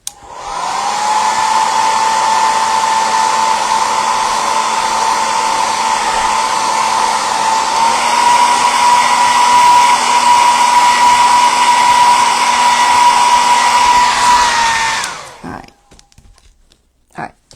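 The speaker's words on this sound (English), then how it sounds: "when you use a blow dryer on this, I have noticed it does sometimes soften a little bit." A blow dryer runs steadily and loudly up close for about fifteen seconds while drying faux rice paper, a constant whooshing whine that cuts off abruptly, followed by a few faint handling knocks.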